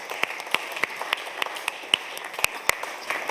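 An audience applauding, with a steady patter of many hands clapping and sharp individual claps standing out. No cheering voices are evident.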